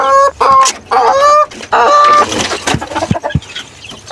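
Chickens cluck and squawk loudly close by in a quick series of calls, followed by softer scratching and pecking noises.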